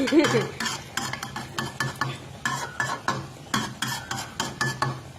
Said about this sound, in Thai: ไฟแรง นะคะ เจียวให้กรอบๆ